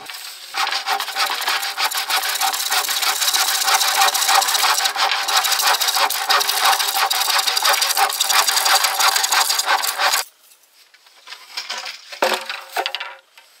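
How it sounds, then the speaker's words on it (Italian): Wooden boards being cut down to 2-metre lengths for building a raised garden bed, with a steady rasping saw noise for about ten seconds, then it stops and a few scattered knocks and scrapes of handling follow. "allora le misuro e le taglio a 2 metri, in modo che potrò usarle più agevolmente"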